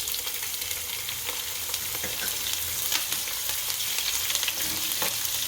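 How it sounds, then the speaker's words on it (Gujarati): Green chillies frying in hot cumin tempering for sabudana khichdi, a dense continuous crackling sizzle with scattered spatters and light stirring scrapes, close and fairly loud without any voices. "જીરું લાલ થઈ જાય એટલે હવે મરચાં નાખી દઈશું"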